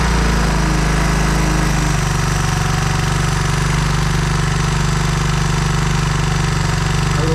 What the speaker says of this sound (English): Gas on, choke on, ignition on, pass top dead center.